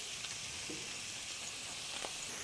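Meat seasoned with salt and pepper sears in a pan with a faint, steady sizzle and hiss and a couple of soft stirring clicks, heard at a distance and without voices.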